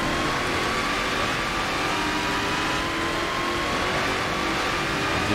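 A supercharged race car engine in a racing video game drones steadily at high revs with a faint supercharger whine, loud and continuous throughout with no pauses.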